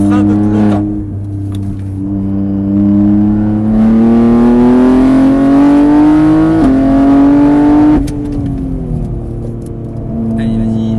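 Race car engine at Mireval circuit, loud and close, its pitch climbing steadily under throttle, then dropping sharply as the driver brakes, and climbing again. A man coaches over the engine throughout.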